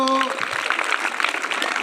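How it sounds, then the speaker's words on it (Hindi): Audience applause at a Veer Bhagat Singh Yuva Dal youth gathering: a dense, steady burst of many hands clapping together, close and loud, lasting under two seconds after a brief voice at the start. "अंकित और भूमिका के लिए तालियां बजा दो।"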